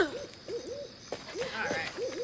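Owls hoot repeatedly in the video game South of Midnight, clear rising-falling calls in a quick rhythm over quiet ambient background, with no speech.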